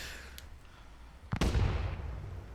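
Satchel charges detonating during a base raid in the game Rust, heard as a sudden loud blast followed by a rumbling boom that decays slowly, with a fainter crack just before it.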